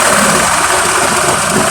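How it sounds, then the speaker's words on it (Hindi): A CNG car's engine idles close up during a gas-setting adjustment, a loud, steady mechanical hum with a faint knocking vibration and no speech. "इंजन की स्पीड को भी देखें साथ,"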